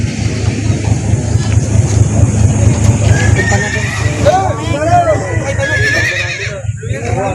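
At the Lucena livestock auction market, a large animal calls out amid the bustle, with hooves clopping, people talking and engine noise nearby throughout.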